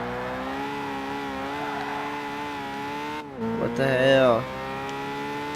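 A Ferrari in Gran Turismo 5 holds a steady high engine drone at full throttle, then the pitch rises sharply into a louder rev near the end, with a brief startled voice over it.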